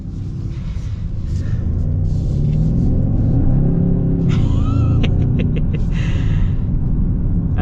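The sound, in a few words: 2025 Hyundai Sonata N-Line car accelerating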